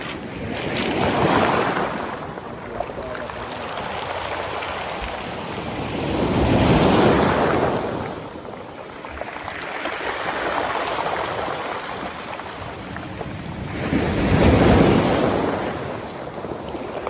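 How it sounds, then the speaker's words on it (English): Heavy waves surge and crash in slow, rolling swells every several seconds on a rough sea at a beach in Portland, Jamaica, with wind roaring across the microphone between them. "Water is rough now, guys, as you can see."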